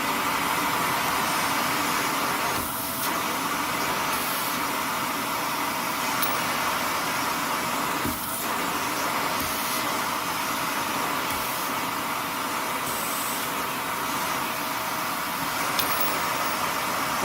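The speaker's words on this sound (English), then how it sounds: "So now I'm going to show you how strong the suction is, and I'm going to be sucking up these coins" A Shark Navigator vacuum cleaner sucking up coins, a steady loud whooshing motor roar with faint brief rattles and clicks as objects are pulled in.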